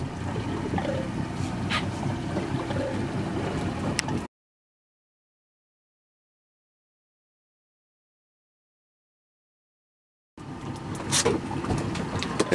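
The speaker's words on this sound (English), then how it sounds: "Pop it in gear, Roy." A steady boat engine hum on a shark fishing trip after the motor is shifted into gear, droning close and even, cut by a long silent gap before the rumble resumes.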